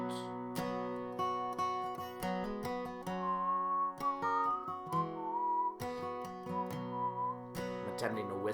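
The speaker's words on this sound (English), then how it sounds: "I'm attempting to whistle like an old hobo." A person whistles a wandering folk tune in the manner of an old hobo, clear sustained notes over strummed guitar-like accompaniment, fairly close and moderately quiet.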